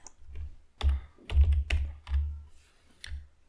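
Fingers typing on a computer keyboard near a Raspberry Pi setup, a few quick clustered key clicks in short bursts with pauses between, close and fairly quiet.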